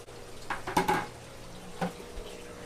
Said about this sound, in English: I do have water going back into all 3 aquariums now